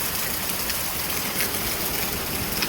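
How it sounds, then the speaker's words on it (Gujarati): Steady unseasonal pre-monsoon rain pours down, a dense even hiss of drops on surfaces with no pauses, close and fairly loud. "ચોમાસાની શરૂઆત થતાં પહેલાંનું આ પહેલું માવઠું છે"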